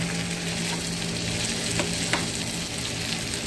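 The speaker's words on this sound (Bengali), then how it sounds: "এটা ভাজা করব আর মাছ ভাজা করব।" Steady sizzling of rohu and tilapia fish frying in a pan, a constant crackling hiss with a couple of brief sharper pops, no voices.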